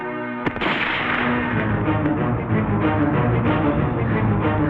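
Gunfire in an Oriya action film, opening with one sharp loud shot and then dense rattling bursts that fill the scene without a break, with no speech over them.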